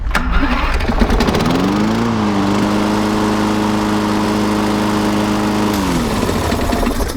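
Briggs & Stratton lawn mower engine starting without a pull cord, catching quickly, then settling into a steady mid-pitched idle before it shuts off near the end, close and loud with no talking.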